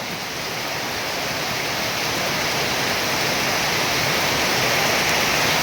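Heavy rain pours down steadily in a dense, loud hiss that slowly swells, with no voices or other sounds breaking through.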